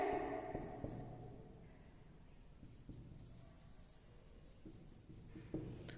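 Pen strokes on paper make soft, faint scratchy scrapes in short irregular bursts against quiet room background.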